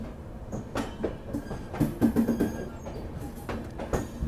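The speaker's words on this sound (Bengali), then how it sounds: "ছেড়ে দিল আমাদের ট্রেনটি জম্মু তাওয়াই স্টেশন থেকে" The Jammu Tawi Express pulls out of Jammu Tawi station bound for Kolkata. Close, rumbling rail noise with irregular clickety-clack wheel knocks and metallic thumps, and no voices.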